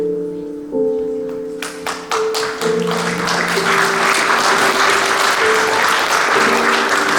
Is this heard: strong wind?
no